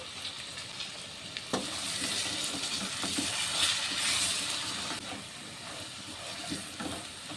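Salt, turmeric and chili powder frying in hot oil in a pan for a hilsa and eggplant curry, a steady close hiss and sizzle with occasional stirring scrapes and a sharp clink.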